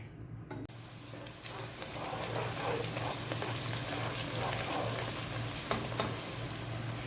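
Oil fries with chopped onions for mash daal, a steady close sizzle with soft crackling and stirring that grows slightly louder after the first second.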